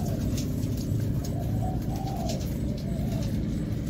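Pigeons cooing in low, rolling murmurs over steady background rumble, close by and continuous.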